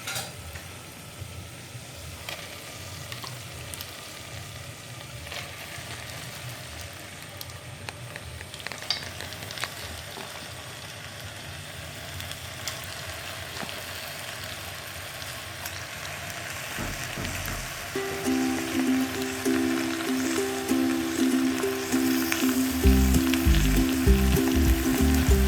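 Chicken cooks with masala in a pan for curry, a continuous crackling sizzle with stirring scrapes, growing louder and busier toward the end.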